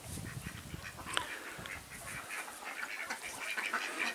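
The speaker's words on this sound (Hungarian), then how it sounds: "Na, kacsákról is legyen már felvétel, nem csak itt az új jövővényekről" Farmyard ducks quack faintly in an outdoor setting, a few scattered calls over steady background noise, with no talking.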